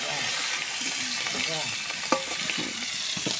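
Shrimp sizzles steadily in hot oil in a kadai for chorchori, with occasional scrapes and clinks of stirring over a continuous close frying hiss.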